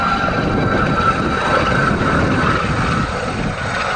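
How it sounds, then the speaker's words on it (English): A helicopter comes in to land near an allotment, a loud, steady engine and rotor drone filling the whole stretch, fairly close and continuous without talking. "Helicopter coming into land."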